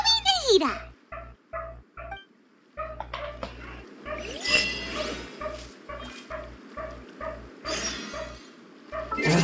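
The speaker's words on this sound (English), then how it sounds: "there's a doggo outside barking. You guys can probably hear it." A dog barks outside in several sharp, separated bursts, mixed with yips and whimpers, heard alongside video game music and sound effects.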